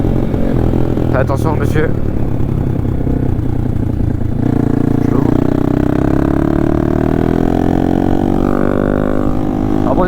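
A motorcycle engine warming up while already hot, idling loudly and steadily close by, its tone rising slightly later on, with someone briefly speaking over it.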